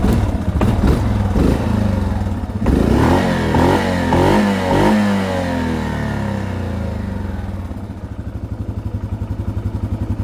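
A Yamaha Grizzly 550 ATV engine with a makeshift throttle idles and revs up, a loud rough rumble that rises and falls several times, then settles into a steady chugging idle.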